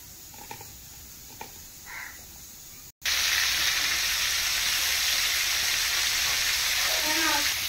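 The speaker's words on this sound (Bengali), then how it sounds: "ইলিশ মাছের মাথাটাকে ভেজে নিচ্ছি প্রথমে" Hilsa fish head frying in hot oil, a steady loud sizzle that bursts in abruptly after quieter kitchen sounds, continuing dense and unbroken.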